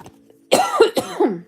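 A person coughs several times in a quick, harsh burst, close and loud, after a brief quiet moment.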